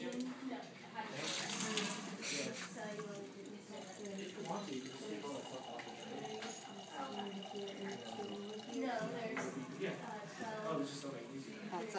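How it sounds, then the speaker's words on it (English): Water is poured into a laboratory beaker for an invisible ink chemistry project, a steady close trickle and splash running under continuous talking. "So we're gonna put water in a beaker."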